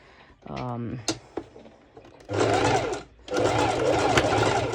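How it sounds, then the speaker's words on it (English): A domestic sewing machine stitches fabric for a halter neck top, running in two sustained mechanical bursts with a rhythmic whirring hum after a brief spoken remark at the start. "with my normal sew machine, I'm going to secure"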